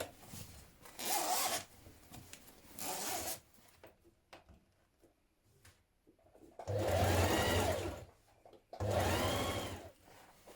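A sewing machine stitches a zipper into a dress in several loud bursts of rapid mechanical whirring, separated by quiet pauses with faint handling noises.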